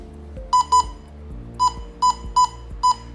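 A Newland Speedata SD100 industrial tablet's barcode scanner emits short, sharp electronic beeps, two quick ones, then four more spaced out, each bright and clear over a quiet background with faint clicks.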